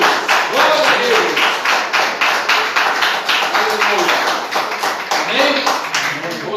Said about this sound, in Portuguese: Vamos aplaudir bem forte a palavra do Senhor Jesus.